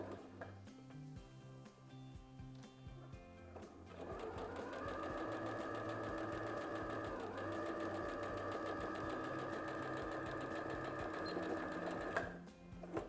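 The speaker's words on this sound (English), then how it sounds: "begin by sewing and lock in our stitches" A sewing machine stitching the seam of a fabric face mask, a steady rapid mechanical whir lasting several seconds after a quieter stretch, close and clear with no talk.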